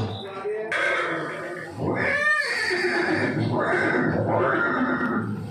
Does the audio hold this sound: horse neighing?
yes